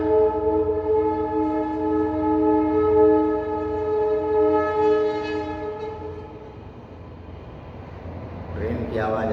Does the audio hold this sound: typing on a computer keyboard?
no